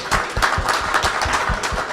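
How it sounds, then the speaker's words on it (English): An audience claps for a panel at the close of a COP27 session on green hydrogen and offshore wind: steady, moderately loud applause from a modest crowd, with individual claps audible throughout. "So I just want to give our panel a round of applause."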